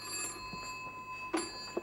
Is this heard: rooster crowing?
no